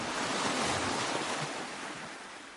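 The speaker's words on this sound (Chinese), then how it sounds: "切换之后的场景是人在海边跑步，我们便可以添加海浪的环境音效" Ocean waves make a continuous, full-bodied ambient surf wash by the seashore, steady and fairly loud with no voices.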